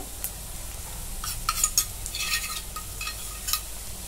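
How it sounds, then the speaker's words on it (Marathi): Chopped onions sizzling and frying in a pan while pav bhaji is cooked, a steady hiss with a few spoon scrapes and light clinks of the utensil against the pan, close up, with no talking. "कांदा लालसर भाजून घेऊ"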